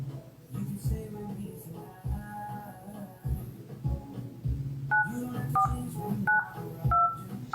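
A phone number is punched in, giving a run of short telephone dialing tones in an uneven sequence, fairly clear over a low background and a brief bit of talk.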